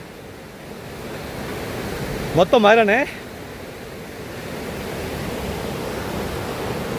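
A fast-flowing river in Nepal rushes beneath an iron bridge, producing a steady, loud, close roar of water throughout, with someone speaking briefly in the middle.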